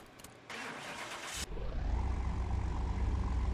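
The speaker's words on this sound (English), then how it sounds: "Interesting engine sound." A Porsche 911 Turbo S (964) engine cranks over after a brief hiss, fires at about the midpoint and settles into a loud, close, deep steady rumble that runs to the end.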